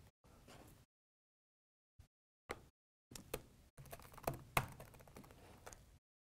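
Quiet bursts of key presses on a computer keyboard as a name is typed, starting with a short patter, then isolated taps, then a denser run of clicks with one louder stroke near the end.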